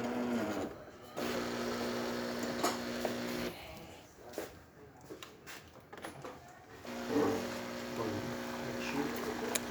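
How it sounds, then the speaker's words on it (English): A Jura espresso machine, freshly fitted with a new membrane after a full tune-up, pulls a single shot on the medium setting. Its pump gives a steady, moderate electric hum that pauses briefly midway, then resumes. "Nice steady stream coming out of the machine."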